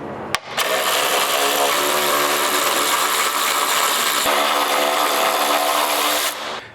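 A power ratchet or impact tool runs steadily for about six seconds, loud and close, while backing 10 mm bolts out of the top of a Ram truck's grille, starting and stopping abruptly.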